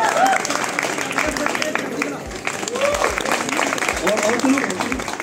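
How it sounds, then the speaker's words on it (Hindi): Concert audience at a college fest in Gujarat clapping and applauding, a dense sustained patter of many hands with voices shouting throughout. "बजाओ यार ताली बजाओ"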